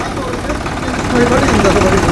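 A Preet tractor engine idles with a steady, dense rumble that swells slightly partway through, close and continuous, with faint voices underneath.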